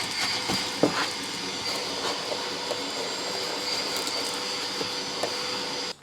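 A vacuum cleaner runs inside the rear of a Nissan GU Patrol with a steady, droning whine. Scattered light clicks and knocks sound nearby.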